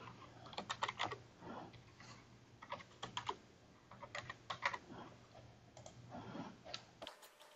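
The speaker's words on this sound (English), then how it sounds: "So let's go ahead and type that in my Wi-Fi." A Wi-Fi password is typed on a laptop keyboard in close, crisp clusters of key clicks with brief pauses, over a faint hum that cuts out at the end.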